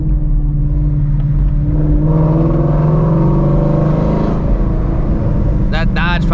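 A Shelby GT350 engine rumbles loud and close during a late-night city drive, a steady deep drone that swells and falls as it is revved, with a brief whir near the end.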